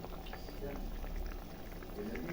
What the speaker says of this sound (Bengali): আর কিছুক্ষণ একটু ফুটিয়ে নিব, তো আমার মাছের ঝোলটা তৈরি হয়ে যাবে।